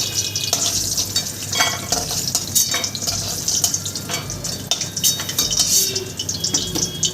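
Vegetables, including bitter gourd, fry in a pan for Bengali shukto, a busy sizzle mixed with repeated scraping and clinking of a utensil stirring against the pan.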